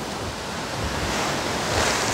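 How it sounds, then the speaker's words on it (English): Ocean waves batter a beach shore in a steady, loud wash of surf with wind noise on the microphone, building slightly toward the end, with no voices. "the ocean is battering the shore"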